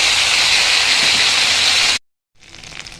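Ginger and chili paste hits hot oil already holding whole garam masala, cinnamon, cardamom and cloves, for a vegetarian potato and papaya curry. A loud, steady, bright sizzle runs for two seconds, cuts out, then comes back softer.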